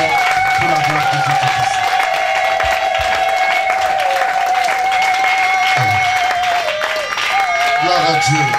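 Church congregation applauding and acclaiming an apostle in a dense, continuous wash of clapping and crowd noise under a sustained musical tone, with voices mixed in throughout.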